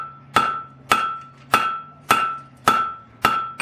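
Six evenly spaced hammer blows ring out on steel worked over a curved anvil horn while forging blacksmith tongs, each strike sharp and bright with a metallic ring that decays before the next, close and alone with a low steady hum beneath.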